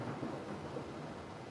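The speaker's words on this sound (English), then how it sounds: "This lightning and thunder." Thunder during a thunderstorm rolls as a continuous low, deep rumble, fairly quiet and steady with no voices.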